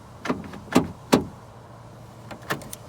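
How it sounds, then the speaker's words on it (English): Mechanical clicks and clunks from a Toyota Corolla interior door handle and lock: four or five sharp, separate knocks spaced unevenly, fairly close and clear, with no one talking. "Locks the door."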